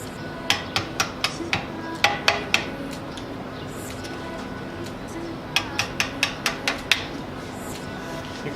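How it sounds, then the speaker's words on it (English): Light hammer taps on a screwdriver against a 2012 Nissan 370Z brake rotor, sharp metallic ticks in two quick bursts of about half a dozen evenly spaced strikes each, close and clear over a low background hum. "And then you just lightly tap them with a hammer."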